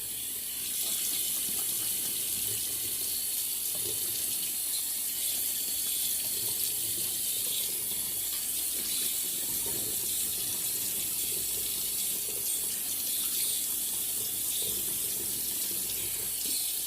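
A bathroom tap runs steadily and loudly to wet the face between passes of a shave with a 1928 Gillette Tuckaway safety razor, a continuous close gush with no voices.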